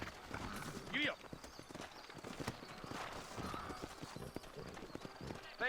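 Horse hooves clip-clop along in the Red Dead Redemption video game, a steady close trot with a brief neigh early on, heard beneath someone talking.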